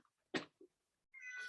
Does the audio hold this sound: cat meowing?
yes